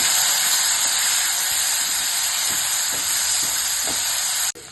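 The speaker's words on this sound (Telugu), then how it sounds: "అలాగే సన్నగా కట్ చేసి పెట్టుకున్న 2 టమాటాలు ఇవి కూడా వేసి వేయించుకోవాలి." Two finely chopped tomatoes frying in a hot pan, giving a loud, steady hiss of sizzling that fills the whole stretch before dropping off sharply near the end, with no talking.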